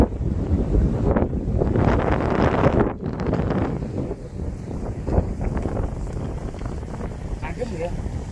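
Wind gusts outdoors beside the Oyo river at Selopamioro, Imogiri, buffeting the microphone in a loud, continuous rumble while people talk nearby.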